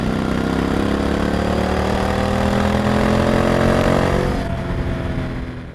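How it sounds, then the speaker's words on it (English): A Triumph Speed Twin 1200 motorcycle engine with Akrapovic slip-on exhausts and a Motone X-pipe runs close by with a deep, steady throb that rises slightly in pitch, then fades and drops away at the end. "It's not only under acceleration where this exhaust system sounds incredible."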